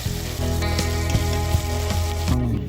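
Ripe tomato pieces and curry leaves fry in a pot for a spicy chicken biryani, giving a close, steady sizzle broken by a few soft knocks and scrapes of stirring.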